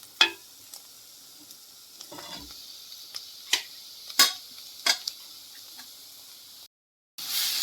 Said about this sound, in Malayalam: ഇതിലേക്ക് നമുക്ക് വേവിച്ച് വെച്ചിരിക്കുന്ന പോർക്ക് ചേർത്ത് കൊടുക്കാം